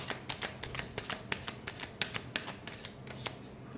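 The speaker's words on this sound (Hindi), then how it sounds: "last shuffle" Tarot cards get a final quick shuffle, a rapid series of crisp, close riffling snaps in a steady rhythm, quiet and with no voices.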